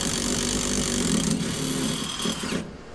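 A square-head bolt on a leaf spring shackle of a 10-bolt rear end being removed with an impact gun and deep socket, a loud, continuous close-up buzzing hammer that runs for a few seconds and then cuts off, with no talking.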